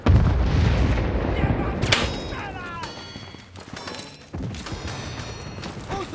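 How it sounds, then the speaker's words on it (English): Airstrike explosions in the World War 3 video game: heavy booming blasts and rumbling impacts with gunfire-like cracks, loud and dense throughout, a sharp burst near the end, with faint voice chatter in the mix. "Friendly airstrike incoming."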